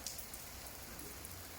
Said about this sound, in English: It's not cold, still hot, but it's raining really fast.